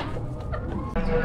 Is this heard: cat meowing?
no